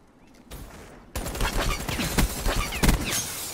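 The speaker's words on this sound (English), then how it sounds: "I simply shoot." A dense, sustained stream of rapid automatic gunfire in Call of Duty: Black Ops III starts abruptly after a quieter lead-in and stays loud and close, with heavier individual shots standing out near the end.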